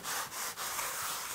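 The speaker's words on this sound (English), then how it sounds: "I'm using my Scrub Daddy just to gently work it in to all the corners." Scrub Daddy sponge gently working a cleaner into the corners of a surface, giving a steady, close, soft scrubbing hiss with two brief dips in rhythm, no talking.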